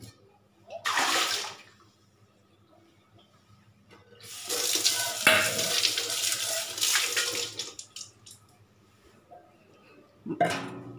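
Taro roots being washed by hand in water, with running tap water and splashing in bursts: a short rush near the start, a longer stretch of sloshing and rinsing in the middle, then a brief splash at the end.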